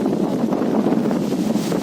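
Strong wind blows hard across the microphone, a loud, continuous roaring buffet that fills the whole moment without letup.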